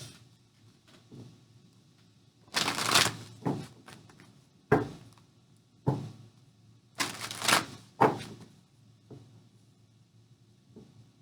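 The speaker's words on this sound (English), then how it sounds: "I'm going to shuffle the cards." Tarot cards from a Dragon Tarot deck are shuffled in several short riffling bursts, each a quick papery flutter, separated by quiet pauses and a few soft taps.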